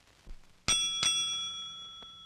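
A small hand bell at a doctor's dispensary rings in a few bright, metallic strikes. Two quick rings come close together, then a softer one and a final ring after a pause, over a quiet room.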